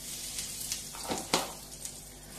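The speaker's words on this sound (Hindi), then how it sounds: "ऑयल गर्म हो चुका है, इसमें हम डाल रहे हैं 1 चम्मच के चौथाई हींग" Asafoetida tossed into hot oil in a kadhai, giving a crackling sizzle with a few sharp spits and pops over a steady hiss.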